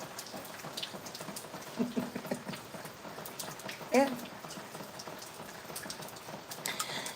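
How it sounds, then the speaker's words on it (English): Steady rain falls during a storm, a constant close patter of drops on a surface, with a person talking over it and a brief louder spike partway through. "Yeah, it is raining. It's a storm."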